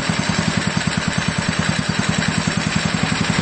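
A small go-kart engine idling steadily up close, with a rapid, even chugging pulse and a constant rattly drone.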